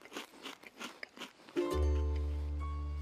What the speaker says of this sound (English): It's Ari eating a cracker